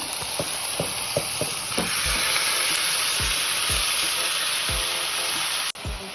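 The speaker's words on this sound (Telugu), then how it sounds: "కొంచెం సేపు వేయించేసుకోవాలి" Marinated chicken sizzles steadily in hot oil with coriander and green chili paste, a continuous bright frying hiss broken by repeated spoon stirs and scrapes, close up, ending with a sudden thump.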